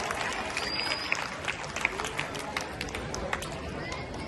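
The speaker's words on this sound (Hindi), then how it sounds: "इस खुशी के अवसर पर जोरदार तालियां हो जानी चाहिए।" Audience clapping at an outdoor Ramleela stage performance in Mohali, a dense, steady wash of many hands with crowd murmur and scattered louder claps throughout.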